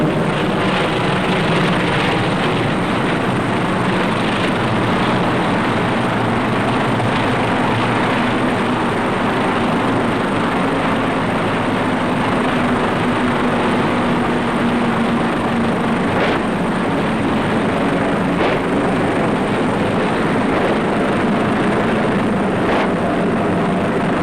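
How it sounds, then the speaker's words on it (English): Rocket-firing Hawker Typhoon fighter aircraft attack German tanks in a World War II battle, heard as a continuous loud engine roar with dense noise and a few sharp cracks throughout. "to destroy it with rocket-firing Typhoons"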